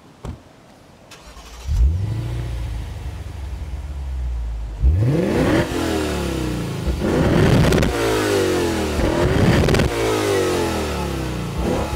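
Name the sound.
Lexus IS 500 F Sport V8 engine starting and revving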